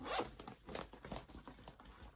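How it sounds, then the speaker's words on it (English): A zipper is pulled open on a fabric tote bag's pocket, a short, close, quiet run of scratchy zipping bursts. "Open up the zipper here and pull out."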